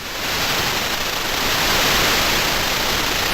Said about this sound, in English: now you get this sort of dynamic white noise